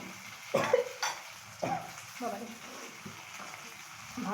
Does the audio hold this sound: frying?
yes